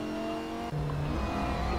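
Lamborghini race car in a sim racing game at Road America, engine note climbing then dropping with a gear change and rising again, steady and loud, with no talk.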